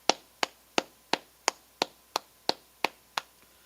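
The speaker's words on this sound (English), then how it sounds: "So let's clap it up." A congregation at a Sabbath service claps hands in a steady, even rhythm, about ten crisp claps in unison, spaced evenly and ringing briefly in the room, with no talk.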